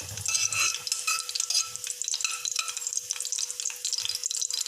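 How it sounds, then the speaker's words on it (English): Moringa leaves sizzle and crackle in hot ghee in a pan, with steady bright frying hiss and occasional utensil stirring scrapes, close and continuous with no voices. "Now, when the ghee gets heated up, you can add the moringa leaves."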